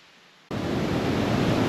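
Waterfalls flow through misty autumn woodland in the Trossachs, Scotland. A loud, dense rushing roar cuts in abruptly after a quieter moment and holds steady, with no talking.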